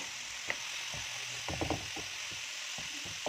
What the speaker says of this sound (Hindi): इंतहाई हल्के हाथ से इसको मसाले के साथ मिक्स कर लेंगे।